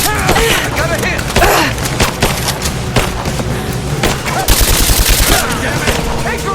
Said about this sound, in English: I'm taking fire! Taking fire!